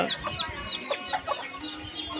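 Chickens on a poultry farm clucking and chirping in quick overlapping calls, fairly close and continuous, no talk.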